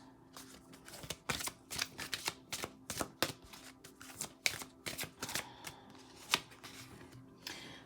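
Tarot cards are shuffled close up and quietly, a quick series of soft riffling slaps and flicks in an uneven rhythm.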